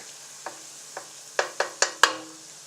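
Small finely chopped onions fry to golden brown in a pan, a steady soft sizzle broken by about six sharp spoon knocks and scrapes that grow louder toward the end, close by with no talking.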